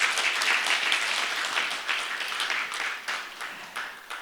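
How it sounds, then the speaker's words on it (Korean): Audience applause at a Korean relay talk event on single-person households fills the room with dense, steady clapping that slowly thins and fades. "오늘 귀한 시간 내어서 발표해 주신 발표자 여러분께 다시 한번 큰 박수 부탁드립니다"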